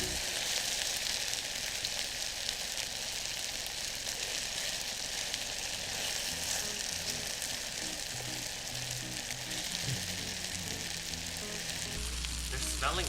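Vegan mushroom teriyaki pieces fry in a pan, a loud, dense, unbroken sizzle with occasional shifts as the pieces are moved around.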